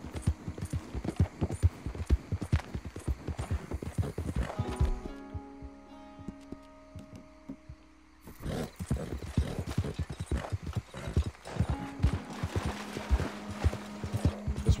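Horse hooves in Red Dead Redemption 2 clip-clop in a steady, fast gallop, loud and close, then drop out for a few seconds under a faint hum before the galloping resumes at full pace.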